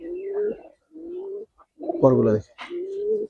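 Giribaz pigeons coo in low, throaty, repeated calls heard close and clear, with someone briefly speaking over them partway through.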